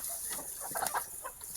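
Native deshi chickens on a farm give a short run of soft, quiet clucks at close range.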